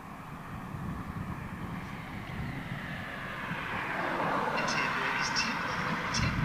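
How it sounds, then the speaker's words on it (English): KC-135 tanker aircraft departing on exercise from RAF Fairford, a broad steady jet roar that swells louder toward the end, with faint higher whine on top and no talk. "these KC-135s go out on exercise"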